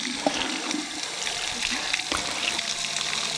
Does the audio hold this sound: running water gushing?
yes